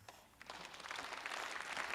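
Audience clapping in a movie scene after a speech, a dense, steady patter of many hands building and sustaining over a couple of seconds with no voices on top.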